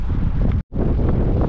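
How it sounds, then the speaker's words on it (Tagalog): Strong wind at Weymouth Beach, New Zealand, buffeting the microphone in a loud, continuous roar, broken by a sudden split-second drop to near silence before the gusting resumes. "Naku po, ang lakas ng hangin."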